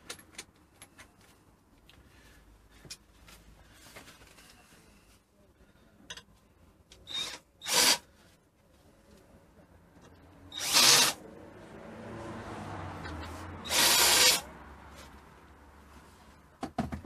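A power tool grinds burrs off freshly cut metal for a homemade boot shelf in a Land Rover Discovery 300 TDI. It comes in several short, loud bursts separated by quieter shop noise, with no talking.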